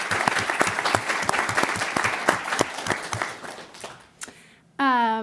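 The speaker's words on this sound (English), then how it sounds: "I'd like to give a round of applause to all the people who have helped you" A crowd applauds steadily for about four seconds at a high school mock trial state championship, dense clapping that fades out, followed by a brief tonal electronic sound at the end.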